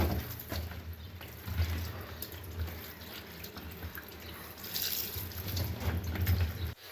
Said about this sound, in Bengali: ভেন্ডিগুলো একটু ধুয়ে নিচ্ছি।